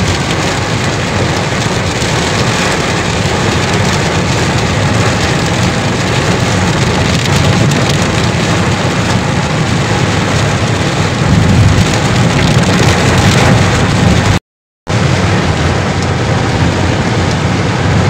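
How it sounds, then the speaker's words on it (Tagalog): Heavy rain pours down during a typhoon and monsoon storm, a loud, dense, continuous roar of drops hitting surfaces close by, with a brief dropout near the end. "Napakalakas ng ulan."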